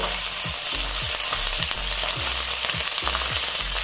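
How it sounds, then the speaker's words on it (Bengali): Ginger and garlic paste fry steadily in a hot pan, a continuous close sizzle broken by regular scraping strokes of a spatula roughly every half second, with no talking. "এবারে আদা আর রসুনটাকে একটু ভেজে নেব।"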